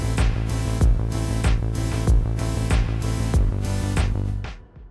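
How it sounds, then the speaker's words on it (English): Chord synth on a Teenage Engineering OP-Z pumping hard against a kick drum, sidechain-style: sustained chords swell back in after each beat, about five even thumps ducking the pad in a steady electronic groove, loud and close, ending in a short fade. "it's how we get that kind of pumping action that is very common in a lot of electronic music"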